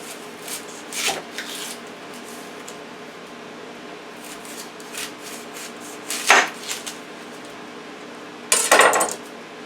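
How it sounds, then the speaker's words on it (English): A knife trims the ends off an onion in a few separate, close cuts, each a short crunchy slice followed by a tap, with quiet pauses in between. "So I'm just going to cut the ends off."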